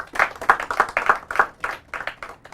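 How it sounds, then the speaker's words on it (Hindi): A small group claps in a quick, uneven burst of about a dozen hand claps, close and moderately loud, over roughly two seconds, with no speech. "तालियां हो जाए उनके लिए।"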